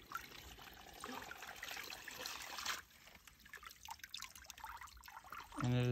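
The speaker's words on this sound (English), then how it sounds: "This water just comes straight off the hillside." Ice-cold mountain water trickles straight off a hillside in the backcountry, a steady close dribble and splash that runs continuously and drops a little partway through, ending in a brief louder burst.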